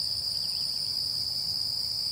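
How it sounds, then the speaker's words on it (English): Crickets chirp outdoors in the morning with a steady, high, continuous trill, moderately loud and alone. "crickets"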